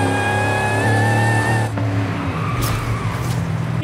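A 1970 Dodge Charger with a 7.5-litre engine rumbles in Forza Horizon, a steady deep idle and cruising drone that shifts to a rougher, rising roar partway through.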